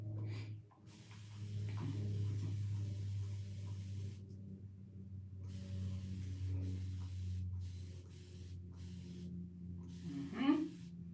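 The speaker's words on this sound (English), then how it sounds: "I'm just spraying her scalp" A spray bottle mists water onto a person's scalp during seated hair washing, a soft hiss running under low background hum, with a brief sharper spritz near the end.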